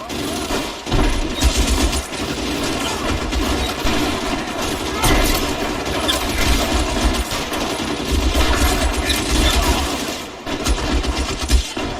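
Dense gunfire in the video game LA Noire, sustained automatic bursts and shots rattling loudly and continuously with booming low end, almost without pause over several seconds.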